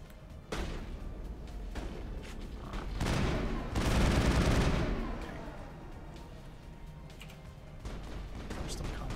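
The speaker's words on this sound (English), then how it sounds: "They're still shooting at somebody up around this ridge." Sustained gunfire from the Mass Effect video game, bursts of rapid shooting and heavy booms in a combat area near a ridge, dense and continuous with a swell of loud blasts partway through.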